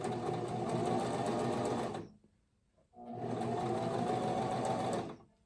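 A Singer Simple sewing machine runs in two loud, fast, even bursts, close by, with a brief quiet pause between them.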